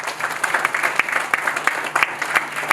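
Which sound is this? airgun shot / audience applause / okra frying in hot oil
audience applause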